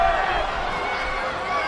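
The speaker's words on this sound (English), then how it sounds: "Would you listen to this crowd show their appreciation for these amazing competitors?" A wrestling arena crowd cheering during a televised tag team match, a steady loud roar of voices sustained throughout with no break.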